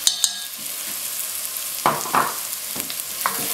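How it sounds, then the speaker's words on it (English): Ginger and garlic paste fries with softened, lightly browned onions in a pan, giving a steady soft sizzle broken by a few scraping stirs, heard close and without talk. "I'm just adding 2 teaspoons of ginger and garlic paste to it."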